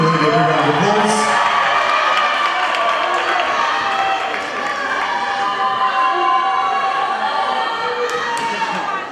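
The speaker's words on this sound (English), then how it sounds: "Let's give this beautiful lady a big round of applause" A crowd at a beauty pageant event claps and cheers loudly, with whoops and scattered shouts that gradually settle into a sustained ovation.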